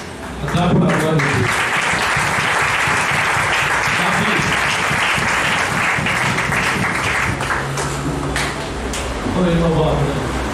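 A church congregation claps steadily and loudly throughout, a dense continuous applause with some voices and cheering mixed in during worship.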